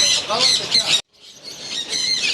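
A breeder pair of Alexandrine parakeets at a bird market in Saddar let out loud, shrill, harsh squawks in two close bursts separated by a brief silence.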